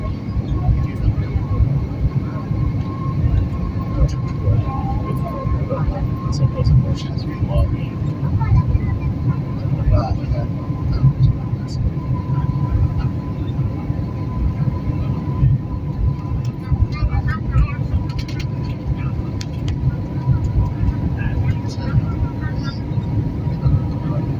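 Airplane cabin noise during a turbulent flight is a steady, heavy low rumble that runs unbroken throughout, loud and close, with faint background voices under it.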